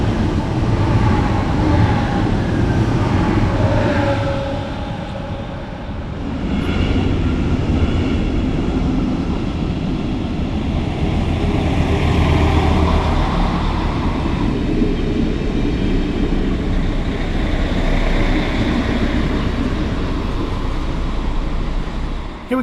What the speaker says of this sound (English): now we can take a look at the arrival of my train today